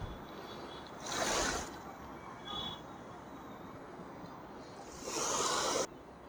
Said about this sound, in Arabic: الموج هادي زي ما انتم شايفين كده اهو